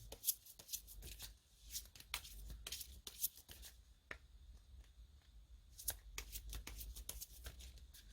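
Tarot cards are shuffled and drawn by hand in a faint, close series of quick riffling flicks and soft slaps, irregular and quiet, with no voices.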